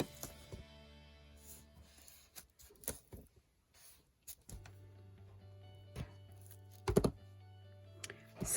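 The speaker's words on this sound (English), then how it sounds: "So I'm going to tape this side as well." Tape is pulled and pressed along the side of a shopping bag mini album, with scattered soft thunks, crinkles and taps between quiet stretches and a low hum.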